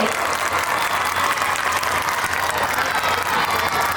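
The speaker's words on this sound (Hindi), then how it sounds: "जोरदार तालियां हो जाए हमारे boys के लिए" Loud, steady applause from a crowd at a school sports meet for a winning tug-of-war team, with dense clapping that holds at an even level throughout.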